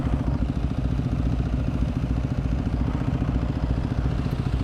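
A 2013 Vyrus motorcycle fitted with an R motor runs steadily while being ridden, its engine giving a continuous low, even drone with a faint clatter throughout and no talk over it.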